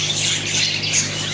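Pigeons kept in a loft squawk and flutter in a dense, continuous chorus, near and moderately loud, with no voices.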